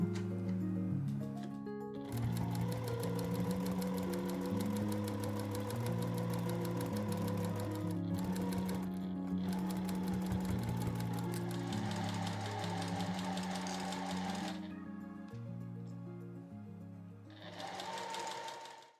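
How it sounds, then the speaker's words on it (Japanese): A sewing machine with a step presser foot stitches along a fabric edge for a dress, running in long steady mechanical whirring bursts with brief pauses and restarts, close and clear with no talking. "そしたら際を縫います。 今回は段押さえを使用します。"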